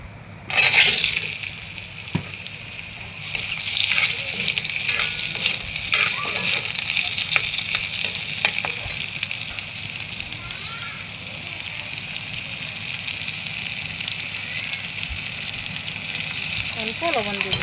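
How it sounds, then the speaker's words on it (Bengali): Potatoes frying in hot oil, a loud continuous close sizzle that bursts in at the start when they hit the pan, with occasional stirring scrapes and brief talk over it. "আলু ভেজে নেব।"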